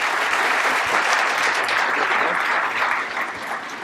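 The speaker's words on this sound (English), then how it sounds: "And would you keep that applause going for Brad Buchanan" Loud, dense audience applause at a mayor's design awards ceremony, a continuous wash of clapping close by that eases slightly near the end.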